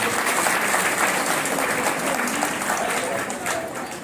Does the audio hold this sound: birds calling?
no